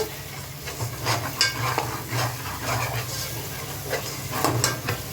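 Spice paste stir-fried in oil sizzles steadily while a spoon scrapes and knocks against the pot in an irregular rhythm, close and without talk.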